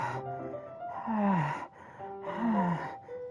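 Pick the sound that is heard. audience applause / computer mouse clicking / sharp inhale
sharp inhale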